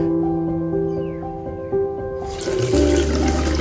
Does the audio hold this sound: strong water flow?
yes